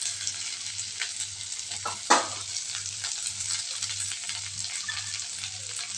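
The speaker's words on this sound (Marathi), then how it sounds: "मी भेंडीच्या फोडी ज्या आहेत त्या टाकून घेतल्यानंतर फोडणीमध्ये" Okra pieces crackle in a hot spiced-oil tempering with a continuous sizzle, and a sharp stirring scrape rises about two seconds in. A low hum pulses steadily underneath the whole time.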